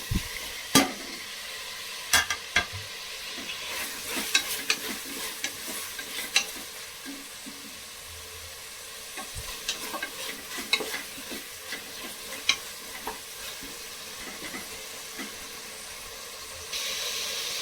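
Tomatoes frying with mint in a hot pan, a steady close sizzle broken by frequent sharp scrapes and clacks of stirring, with no voices.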